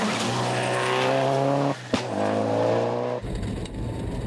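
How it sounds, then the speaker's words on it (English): Rally car at Rally Hawkes Bay 2013 driven hard to the end of a stage, engine roaring loud and close with gear-change dips, a brief skid and tire squeal, then a cut to quieter, rougher engine noise. "he's thrown that car around and already his time is well down on Taylor"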